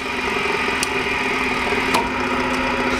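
A 12-inch two-speed mitre saw runs steadily at its slow speed, a constant motor hum and whine with a couple of faint ticks, close and continuous throughout.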